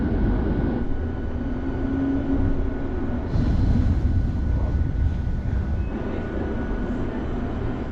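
A tram rolling through Helsinki in the evening, heard from inside as a steady low rumble with a brief rise in mechanical noise partway through and no voices.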